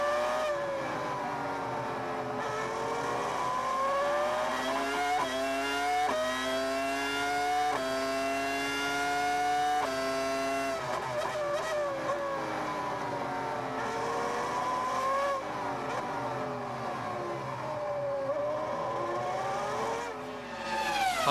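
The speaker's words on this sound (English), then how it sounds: "Let's just ride with Heidfeld." Onboard engine of a Formula One car at the 2002 US Grand Prix, a loud continuous scream rising and falling through gear changes and revs, with brief drops on braking and no voices.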